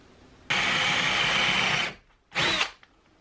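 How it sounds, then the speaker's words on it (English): A power drill bores down into a 2x4 with a bolt-size bit, one sustained whining burst of about a second and a half, a pause, then a shorter burst, close and loud. "I'm just drilling down far enough that the washer and the head of this bolt will"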